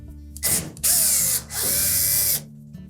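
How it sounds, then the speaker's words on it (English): A power driver backs Phillips head screws out of the back edge of a Samsung dryer's top panel in two bursts of whirring motor, with brief pauses between them and after. "you'll need to remove 2 screws located on the back edge of that top panel"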